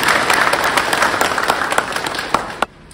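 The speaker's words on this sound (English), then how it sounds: "Let us give a big round of applause to this unique." Guests at an Ao Sumi Naga wedding in Unger clap for the newlywed couple, a lively burst of close individual claps that fades and stops abruptly near the end.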